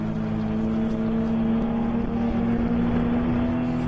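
An endurance race car runs flat out down the front straightaway at Road America without downshifting, a loud sustained engine whine holding one steady pitch close by, alone without talk.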